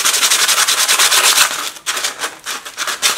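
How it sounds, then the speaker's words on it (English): Sandpaper rubs over armor padding shaped over a metal form, giving close, loud, rhythmic scratchy strokes in quick back-and-forth succession with a short pause midway. "So let's start with the sandpaper around where our hole was or is."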